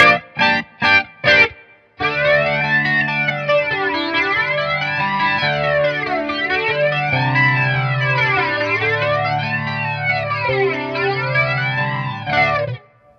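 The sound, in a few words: electric guitar with chorus and flanger effects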